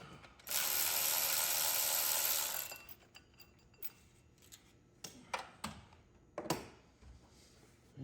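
Ratchet turning bolts on the transmission of a 2002 Ford F150 with a 5.4L engine, heard as a steady loud burst of clicking for about two seconds, then scattered short clicks and clanks in a quiet garage.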